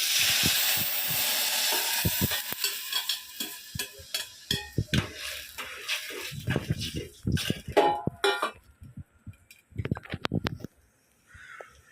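Cooked yellow dal tipped into a hot tempering in a pan and stirred over high flame, with clanks of a spoon against the metal pan, scraping and a light sizzle in irregular bursts, fading to quiet near the end.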